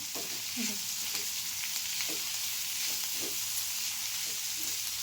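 Spice masala frying in oil for cabbage rasam gives a dense, even sizzle that fills the whole clip, close and steady, with faint stirring scrapes now and then and no talking.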